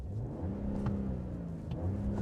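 A 2025 Ram 1500 Warlock pickup's inline-six engine runs at a smooth, quiet, muted idle, a steady low hum with no other sounds.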